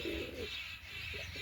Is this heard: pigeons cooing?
yes